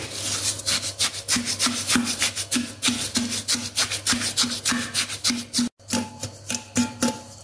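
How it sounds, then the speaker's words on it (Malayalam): Wooden spoon mixing and mashing oranges in a bowl for homemade orange wine, a steady rhythmic scraping and squishing repeated about twice per second, close and fairly loud, with a brief pause near the end before it resumes, no talking. "നമുക്ക് ഒരു മരത്തവി കൊണ്ട് ഇതൊന്ന് മിക്സ് ചെയ്ത് കൊടുക്കാം. നന്നായിട്ട് മിക്സ് ചെയ്യണം കേട്ടോ. ഓറഞ്ച് നന്നായിട്ട് ഉടച്ചു കൊടുക്കണം."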